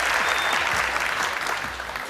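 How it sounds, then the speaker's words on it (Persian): A studio audience on a Family Feud-style game show applauds a contestant coming up, a loud, continuous wash of clapping with no voices over it. "دوستا تشویقش میکنین"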